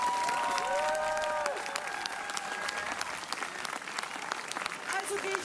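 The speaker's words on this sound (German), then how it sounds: "Nochmal einen dicken, großen Applaus." An audience at an outdoor morning band concert applauds steadily throughout, a dense wash of clapping with a few voices and cheers mixed in.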